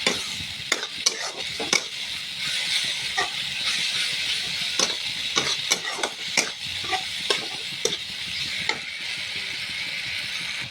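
Spice paste sautéing in a pan, a steady hiss and sizzle broken by repeated scraping clinks of a spoon stirring it through, close and continuous with no talk.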